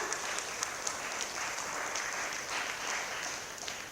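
Audience applause at an arts workshop in Chennai: continuous, moderately loud clapping from a crowd, with a few sharper individual claps standing out, running steadily throughout.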